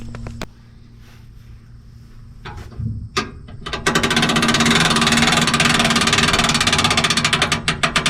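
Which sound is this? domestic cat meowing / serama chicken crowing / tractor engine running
tractor engine running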